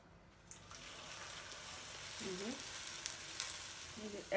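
A Mughlai paratha frying in a pan gives a soft, steady sizzle with crackling spits and spatter that grow louder toward the end.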